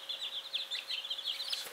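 A young rooster chick peeps and chirps steadily in a quick, high, twittering stream, close and fairly loud, with no talk over it.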